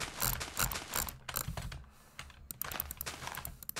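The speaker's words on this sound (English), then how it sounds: "So again, here's drag clicking." A computer mouse drag-clicked rapidly during competitive gaming, producing dense bursts of fast, close, crisp clicking that rattle in quick runs with brief pauses between them.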